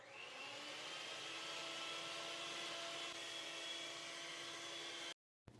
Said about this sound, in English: And now whisk it to stiff peak.